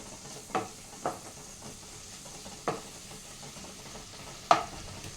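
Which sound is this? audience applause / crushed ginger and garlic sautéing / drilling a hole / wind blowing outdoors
crushed ginger and garlic sautéing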